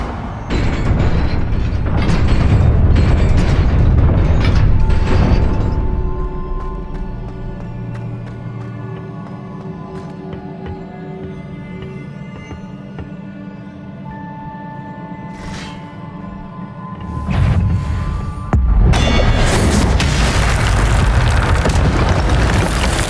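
Incendio fire spell in Hogwarts Legacy: a loud whooshing burst, then a sustained fiery, tonal magical hum that fades lower, followed by another sharp loud blast of spell energy near the end.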